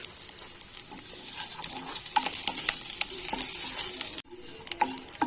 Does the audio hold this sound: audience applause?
no